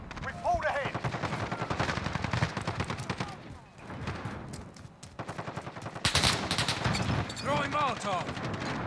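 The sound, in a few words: gunfire in a multiplayer shooter video game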